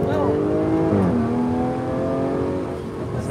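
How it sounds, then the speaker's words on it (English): A 2021 Jaguar F-Type P380 R-Dynamic convertible's engine revs up under acceleration, then drops in pitch through a downshift and settles into a steady drone, loud and close, with a voice talking over it. "Bit of acceleration, I'm gonna do some downshifts."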